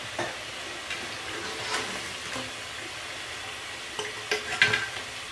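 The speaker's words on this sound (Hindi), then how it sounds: "इसी तरह पलट के हम इनको अच्छी तरह फ्राई कर लेंगे।" Bread pakora and samosa fry in hot oil, a steady close sizzle that runs throughout with occasional brief clinks and stirring as pieces are turned.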